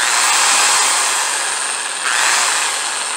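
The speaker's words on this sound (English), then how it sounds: "Ooh, a new drill. Ooh, a drill. Does it work?" A new power drill whirs loudly and steadily up close, its pitch dipping briefly then picking back up, with no talking.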